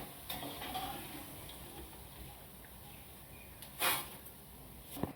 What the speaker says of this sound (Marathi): या उकडलेल्या बटाट्याचा किस तळून बघते.